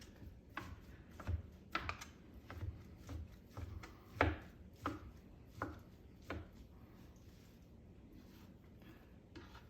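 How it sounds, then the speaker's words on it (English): A knife chops barbecued meat on a board in quick, uneven taps, close and fairly quiet, with a short pause before the chopping trails off. "I'm just chopping this up"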